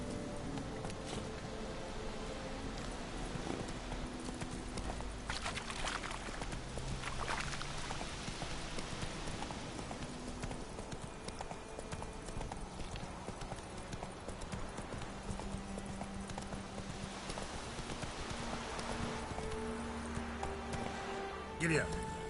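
Hooves of Roach, a horse in a PS4 video game, clip-clop at a steady trot throughout, with a voice talking over them.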